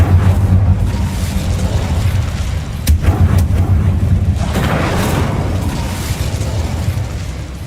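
An Incendio fire spell blasts in the video game Hogwarts Legacy, a loud, rumbling burst with sharp cracks, set within continuous heavy game sound.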